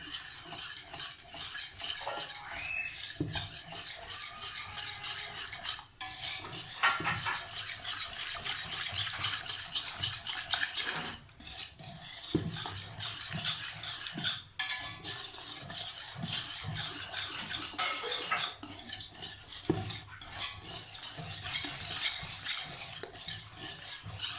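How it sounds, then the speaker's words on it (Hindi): Gram flour batter whisked in a bowl to work out lumps makes a quick rhythmic clicking and scraping of a whisk against the bowl, steady and close, with a few brief pauses. "अच्छे से फेंट लेंगे ताकि इसमें कोई भी लम्प ना रहे।"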